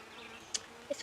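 Honey bees buzz around an open hive of young brood during a beekeeping inspection, a faint steady hum with two brief, sharper close passes of single bees.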